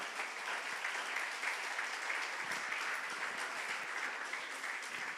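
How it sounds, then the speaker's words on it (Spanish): Church congregation applauding during a sermon, a steady wash of many hands clapping at moderate distance, continuous and even for several seconds. "¿Qué tal si le damos un aplauso al Señor?"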